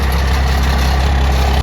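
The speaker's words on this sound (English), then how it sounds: "There's a loose piece of metal just tinging on the exhaust pipe underneath there" A truck idles with a deep, steady engine rumble, a loose piece of metal underneath tinging against the exhaust pipe; the drone is loud, close and continuous with no talk.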